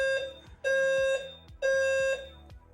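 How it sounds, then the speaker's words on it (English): Fire alarm sounding at a Tetris championship tournament, two long loud electronic tones with a harsh buzzing timbre, each lasting about half a second to a second, separated by short gaps. "The fire alarm is going off, everybody."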